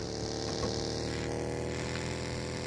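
A tractor engine runs with a steady, droning mechanical hum in a mobile battle royale match, holding an even pitch and loudness from start to finish without any speech.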